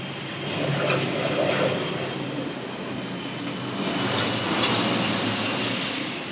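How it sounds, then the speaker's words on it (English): An airplane passes overhead as a broad, steady engine roar that swells gently twice across the clip and stays moderately loud, with no voices present. "I hope you heard that airplane overhead."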